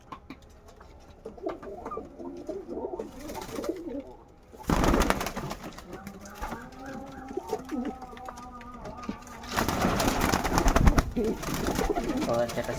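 Kaldom pigeons coo in low, rolling bursts at close range. Louder rustling and flapping noise breaks in midway and again near the end.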